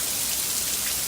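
Intense warm tropical rain falls in a steady, dense hiss, loud and close, with no talking over it.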